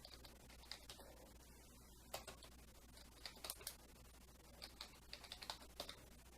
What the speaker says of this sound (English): I'm going to be using one hand, obviously, to type. But let's just type.